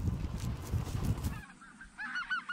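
Snow geese honking at a waterfowl hunt, a flock's repeated nasal calls mixed with low wind and rustling, the calls growing clearer near the end.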